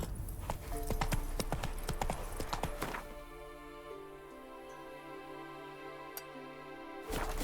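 Horse hooves in The Witcher 3 clip-clop at a rapid gallop for about three seconds, loud and close, then give way to a steady tonal hum before a final burst at the end.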